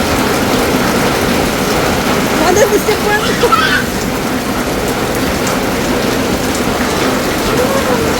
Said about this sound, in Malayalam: മരുഭൂമിയിൽ മഴ പെയ്യുന്നു